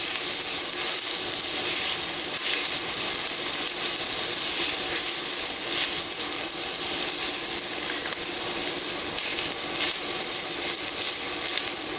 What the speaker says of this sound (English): I'm going to keep cooking on this because I want to get my vegetables soft.